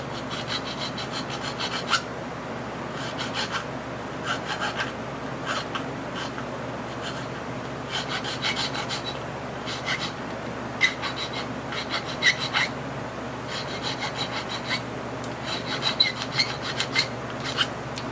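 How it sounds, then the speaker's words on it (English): A file deburrs a guitar control plate in steady, close rasping strokes that repeat evenly throughout with no talk. "Now I'll try to deburr it."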